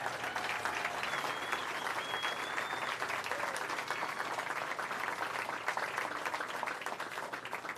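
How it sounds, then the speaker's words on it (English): A sustained round of applause rises from the audience at a Hollywood Walk of Fame ceremony honoring actor Gary Sinise: steady, even clapping from many hands, somewhat distant and moderately soft, lasting the entire stretch. "How about another round of applause for him?"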